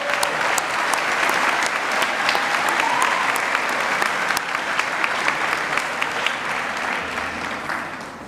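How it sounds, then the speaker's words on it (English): An audience at a high school awards night applauds a jazz ensemble, a loud, dense, sustained wash of clapping that fills the room and tapers slightly at the end. "Let's give them another round of applause."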